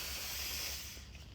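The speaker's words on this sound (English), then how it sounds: "So I just like spray a nice layer" Hair spray hisses onto a wig in a brief, quiet, steady spray that tapers off after about a second.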